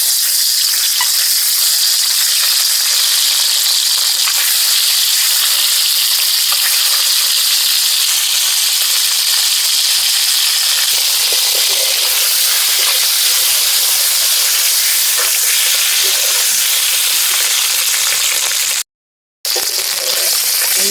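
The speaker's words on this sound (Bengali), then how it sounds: "ডিম ভাজার জন্য প্রথমেই কড়াইতে কিছুটা সর্ষে তেল দিয়ে দিলাম" Duck eggs fry in mustard oil in a wok, giving a loud, constant hissing sizzle up close that cuts out briefly near the end.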